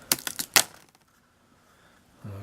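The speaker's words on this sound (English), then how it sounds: "This whole keyboard comes up, including the number pad." A Dell laptop keyboard with number pad is pried up during replacement, giving a quick burst of sharp plastic clicks and snaps, then near silence before a low hum.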